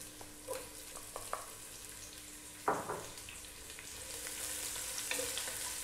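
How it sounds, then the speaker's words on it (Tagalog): Onion frying with garlic in a pan for pancit canton, a quiet steady sizzle with a few spatula taps and one sharper clatter, the hiss swelling slightly toward the end. "Lulutuin ko lang yung ating onion ng mga 30 seconds."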